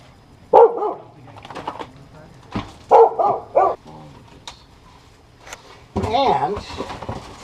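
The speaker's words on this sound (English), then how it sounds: "There's the neighbor's dog." A neighbor's dog barks outdoors near a backyard railway, a few sharp barks in short clusters at moderate distance, with someone talking between and over them.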